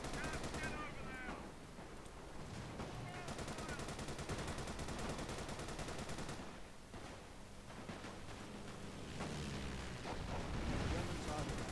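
Rifles fire on command at a World War I reenactment, a dense spread of cracks and booms over rumbling battle noise, running under shouted orders and talk.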